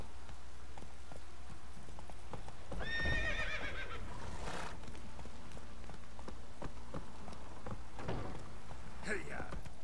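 Horse hooves clip-clop at a gallop in The Witcher 3, with a loud whinny partway through, under rain and in-game ambience, with a voice speaking over it.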